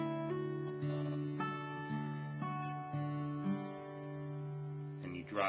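An acoustic guitar fingerpicks an intro slowly, each plucked note sounding separately and ringing into the next at a soft, even level, heard up close with no one talking.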